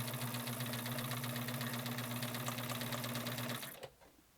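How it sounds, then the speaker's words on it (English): A Bernina 830 sewing machine runs steadily, stitching with a continuous rapid mechanical whir and a low motor hum, then stops abruptly near the end, leaving quiet. "the machine's ready to sew"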